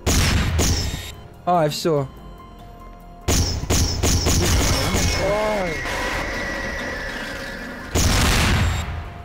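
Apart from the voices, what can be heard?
explosions in Garry's Mod video game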